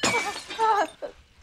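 Glass shattering in a TV show, a loud close crash followed by a few tinkling fragments that fade within a second.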